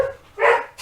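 A dog barks twice in a workshop setting, a short yip followed by a louder, fuller bark and a third bark cut off at the end, fairly close and clear.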